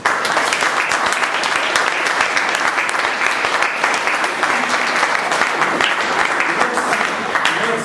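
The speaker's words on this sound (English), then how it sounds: "I think you all deserve a round of applause." Audience at a Toastmasters meeting celebrating its 900th session breaks into sustained applause, dense rapid clapping from many hands that stays loud and even throughout with no talk on top.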